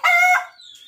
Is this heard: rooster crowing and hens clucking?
yes